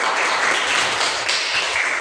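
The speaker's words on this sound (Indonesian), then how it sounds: "Tepuk tangan untuk dia." Brief applause from an audience in a classroom or lecture setting, given for a student; a short burst of dense, steady clapping at moderate level with no talk over it.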